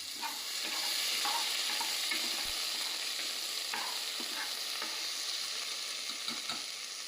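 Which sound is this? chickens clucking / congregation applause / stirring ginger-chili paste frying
stirring ginger-chili paste frying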